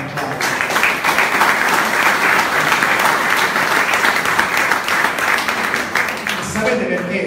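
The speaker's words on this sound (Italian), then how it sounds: "vi chiedo un fortissimo applauso" Sustained, loud applause from an audience honoring Salvatore Lo Presti at a Marsala football club reunion, dense clapping running steadily for about seven seconds before tapering slightly at the end.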